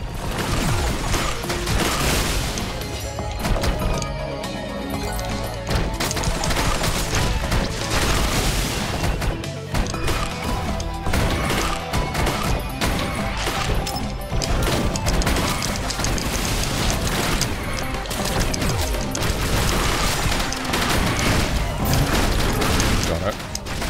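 Turrets firing during hectic combat in Risk of Rain Returns, a dense, continuous clatter of rapid shots and crashes layered with music and effects, loud throughout, with players talking over it.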